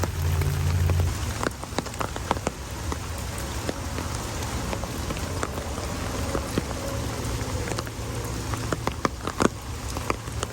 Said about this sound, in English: It's starting to look like a rainforest. Get it? Because it's raining.